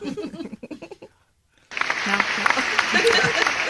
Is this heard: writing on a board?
no